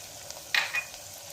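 Spatula stirring sliced ridge gourd with chilli powder, coriander powder and salt frying in a pan, a short scraping stir with soft sizzle, close and quiet.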